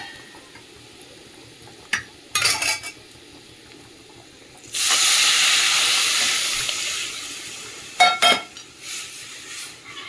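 Dal poured into hot oil with onions fried red and turmeric erupts into a loud hissing sizzle that fades gradually, framed by clinks of pots and utensils before and after.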